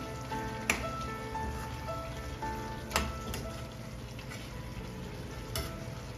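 Garam masala powder being stirred into a curry sizzling in a pan, a steady frying hiss with a few sharp scraping clicks of the spoon, close and alone.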